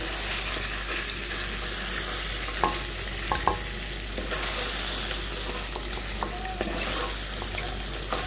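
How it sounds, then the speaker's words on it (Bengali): Paneer cubes frying in oil until light brown for a vegetarian shahi paneer, a steady close sizzle with scattered clicks and scrapes of a utensil lifting pieces out of the pan. "পনিরগুলো হালকা বাদামি রং করে তুলে নিতে হবে"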